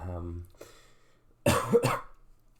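Two quick, harsh coughs close to the mic, following a brief voiced sound.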